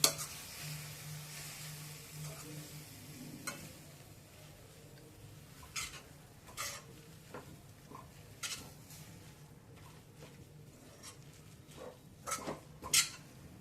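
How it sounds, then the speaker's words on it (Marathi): Gram flour is stirred into radish leaves in a pan, giving faint, scattered scrapes and light taps of a spoon against the pan over a soft, low sizzle. "आता त्याच्यावर डाळीचं पीठ पेरायचं मिक्स करत राहायचं"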